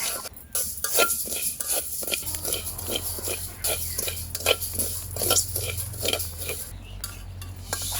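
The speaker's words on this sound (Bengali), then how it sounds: "এভাবে আমি চালগুলো ভেজে নিব।" Rice dry-fries in a pan for laddu, a dense rattling, scraping patter of grains stirred in quick irregular strokes, close and steady, with a low hum beneath and no talking.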